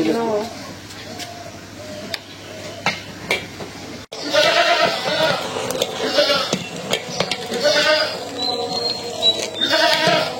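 Goats bleat repeatedly in an outdoor farmyard on Eid al-Adha, with people talking over them and some clattering in the background.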